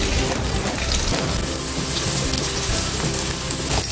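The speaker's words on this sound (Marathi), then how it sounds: "आता आपलं तेल तापलंय, कोट केलेले मासे फ्राय करून घ्यायचे" Black pomfret pieces coated and frying in hot oil over a medium flame, giving a steady, continuous close sizzle and crackle throughout with no talking.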